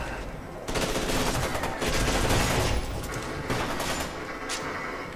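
Gunfire in the first-person shooter video game Fear 2: dense bursts of rapid automatic shots and fusillades crackle continuously for several seconds, loud and close.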